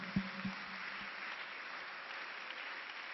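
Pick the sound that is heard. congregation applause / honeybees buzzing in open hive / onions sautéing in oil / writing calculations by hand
congregation applause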